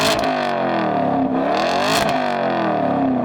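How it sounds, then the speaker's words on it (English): A V8 car engine with a track package, rated at 455 horsepower, revs loudly and steadily at close range, rising and falling in pitch across several rev sweeps. "Nothing beats that V8 sound."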